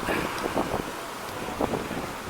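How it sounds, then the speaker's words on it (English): Steady wind roars across the microphone outdoors on Deansgate in Manchester, a loud, continuous rushing buffet with small gusty swells throughout and no talking. "wind's picking up again"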